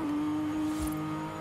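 Inside the cabin of a modified Porsche Carrera S, the engine drones steadily and fairly loudly with a low rumbling tone, with a brief deeper thump partway through and no talking.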